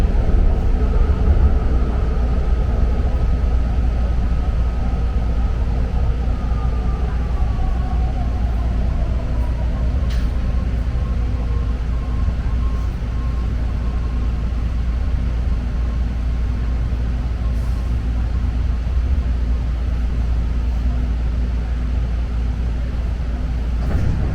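A BART Red Line train rolls into the downtown Berkeley station with a loud, steady rumble, a falling brake whine and the hum of the underground platform, with no voices.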